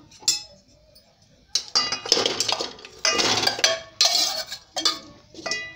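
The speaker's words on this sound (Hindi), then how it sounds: "अब मैं इसमें डालूंगी ये गुड़" Jaggery going into a large metal cooking pot while making til gud laddoos for Makar Sankranti, heard as a series of close, clattering metallic clanks and scrapes in uneven bursts with short pauses between them.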